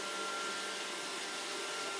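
An iRobot Roomba 560 robot vacuum starts cleaning with a steady, fairly quiet whirring hiss and a faint constant whine, heard alone.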